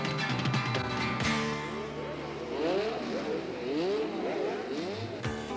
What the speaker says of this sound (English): thrilling to the sight and sound of high-performance racing cars running through the city centre